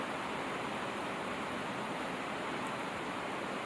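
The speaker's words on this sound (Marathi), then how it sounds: "एक एक वडं सोडायचं हळूहळू. जास्त पण गरम नाही करायचं तेलाला." Dahi vada batter dropped one spoonful at a time into moderately hot oil, frying with a steady, even sizzle that hisses continuously and softly with no voices.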